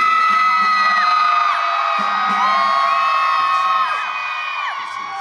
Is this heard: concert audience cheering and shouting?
yes